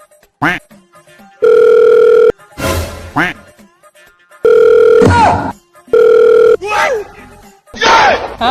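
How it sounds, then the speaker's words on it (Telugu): A phone rings in repeated electronic tone bursts, loud and close, alternating with short spoken exchanges and sighs between rings. "నీ ఫోన్ తో నా ఫోన్ కి ఒక రింగ్ ఇవ్వు"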